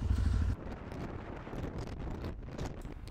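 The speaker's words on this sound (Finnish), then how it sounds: "Aikamoinen tuuli ja myräkkä on nyt meneillään." Strong stormy wind on the sea ice near Hailuoto, Finland, during an ATV ride buffets the microphone with continuous, low, rushing noise that swells and gusts unevenly throughout.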